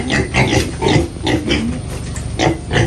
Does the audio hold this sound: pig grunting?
yes